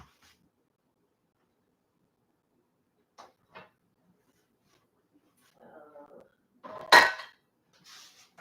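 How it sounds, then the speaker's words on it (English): A frying pan and other cookware are handled in a home kitchen: a few soft clinks, then one loud metallic clank and a short rattle, with a brief voice murmuring nearby. "grab my frying pan."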